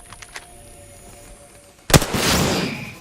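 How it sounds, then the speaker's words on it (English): A single sharp gunshot in Apex Legends cracks out loud after a few faint clicks, then a noisy burst of impact and debris rings on for about a second. "I shot a cargo bot"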